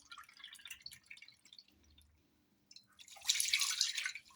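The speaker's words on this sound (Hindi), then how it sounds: "तो ये मैं 2 कप जो है वो मिल्क इसके अंदर ऐड कर देती हूँ" Milk, two cups of full-fat, poured into a cooking pan: soft liquid pattering and dripping close by, quiet at first and then a brighter, louder splashing stream near the end, with no talk.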